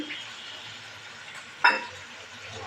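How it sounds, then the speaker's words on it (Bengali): Desi chicken curry with sour yogurt just added sizzles in the pan while it is stirred. A steady frying hiss continues under one sharp scrape from the spoon. "টক দই দিয়ে কিছুক্ষণ নেড়ে নেব"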